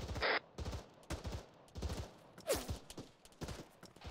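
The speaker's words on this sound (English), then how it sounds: "We're still taking fire. Somebody's taking pot shots." Gunfire in the military shooter game Arma: several sharp gunshot bursts and scattered pot shots crack across the clip at irregular intervals, moderately loud with some distant-sounding reports.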